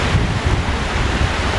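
Ocean waves surge against the rocky shoreline at Queen's Bath on Kauai, a steady low roar of surf mixed with gusty wind buffeting the microphone, continuous and close with no voices.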